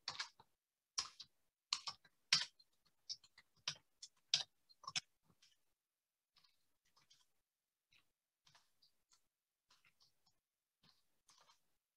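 Typing on a computer keyboard in a quiet room, brisk clusters of sharp clicks at first, then sparser, softer keystrokes spaced apart, heard alone without talk.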